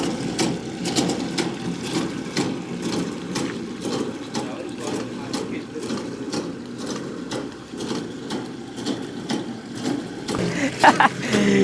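A homemade automatic water pumping machine running steadily, a continuous mechanical whir with rapid rhythmic clicking and clatter, close and fairly loud, with no talk over it.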